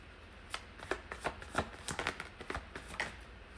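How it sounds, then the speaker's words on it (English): A deck of tarot cards is shuffled by hand in quick, quiet, irregular riffles and flicks, close by in a still room with no talking. "if you notice while I was shuffling, there were multiple cards that wanted to pop out at the same time"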